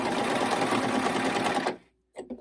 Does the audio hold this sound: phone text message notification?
no